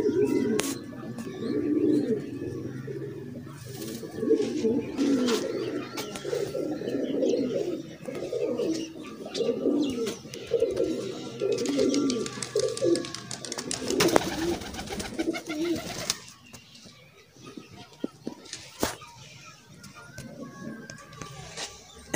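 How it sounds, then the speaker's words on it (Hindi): Sialkoti pearl-eyed pigeons cooing in a loft, soft repeated throaty coos close by, overlapping in a steady pulsing chorus that fades toward the end, with a voice speaking over them. "ए जी सियालकोटी मोतियां वाला कबूतर है।"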